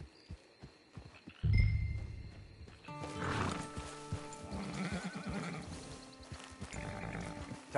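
A horse in a PS4 video game whinnies loudly and snorts near the start, then hooves clip-clop amid layered game music and ambient sound.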